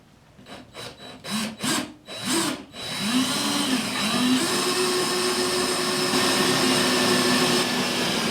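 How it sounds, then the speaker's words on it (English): A power drill bores holes into a table top: several short revving bursts start and stop, then one long steady whirring grind close to the mic with a wavering pitch. "there's 4 locations for 4 drill holes that we're going to make"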